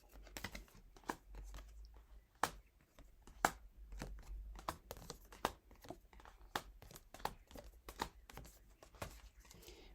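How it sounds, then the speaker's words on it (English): A deck of tarot cards is shuffled by hand in a quiet room, producing soft, quick irregular riffles and flicks close by with no talking. "Let me shuffle that again."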